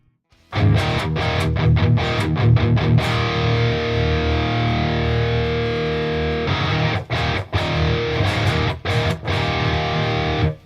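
An electric guitar played through an amp-simulator plugin with a distorted punk rock tone rings out in loud, sustained chords, broken by a few short choppy stops and restarts, with no voices.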